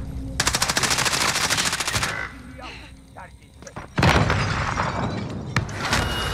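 Rapid automatic gunfire in a Call of Duty: Modern Warfare match, loud sustained bursts aimed at the player, a brief lull with scattered impacts, then another heavy volley, with a player's voice talking over parts.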